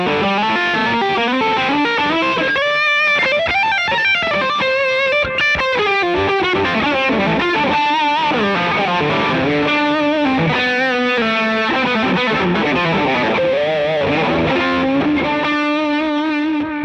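Electric guitar played through distortion and delay pedals, heavy distortion and echoing delay, sustained loud notes and chords ringing continuously without any voice.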